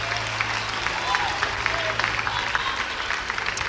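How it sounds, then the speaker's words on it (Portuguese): A church congregation applauds during a worship service, a steady moderate wash of clapping from a crowd with faint voices mixed underneath. "os que podem, tomem seu assento aplaudindo a Jesus"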